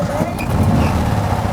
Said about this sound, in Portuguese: Este é o ronco do motor de um Itamar 1700, conservado.